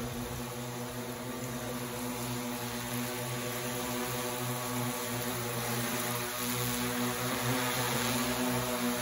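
A camera drone flies nearby, giving a steady, continuous motor and propeller drone at an even level throughout.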